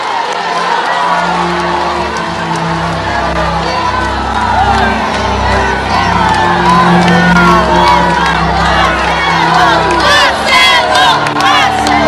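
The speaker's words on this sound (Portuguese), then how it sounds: "o caixão agora vai deixando a Assembleia em meio a aplausos e gritos de nome Marcelo." A large crowd outside a state legislative assembly applauds and shouts loudly as a coffin is carried out, with chanting voices, cheers and whoops swelling continuously around a nearby reporter speaking.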